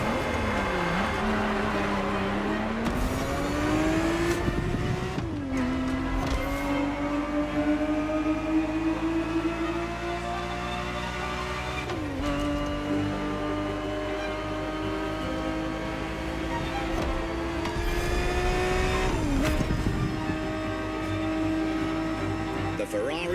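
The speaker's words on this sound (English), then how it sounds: "The Ferrari 365 GTB4 is the perfect vehicle for you to experience Ferrari racing as it felt back in the 70s" A Ferrari 365 GTB4 in The Crew Motorfest revs through its gears with a continuous loud engine drone, rising in pitch with each shift, while a voice talks over it throughout.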